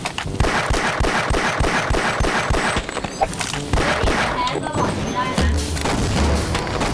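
Rapid, loud bursts of gunfire from a gun in the video game Half-Life, a dense rhythmic stream of shots that dominates throughout, with a voice talking over it.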